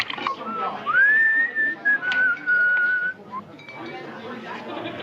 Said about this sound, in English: Couldn't he pick a better time to do his whistling?